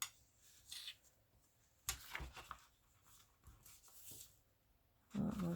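Paper is folded over and creased by hand while making a journal pocket, with soft rustles, scrapes and a few crisp crinkles up close at irregular moments over a quiet room.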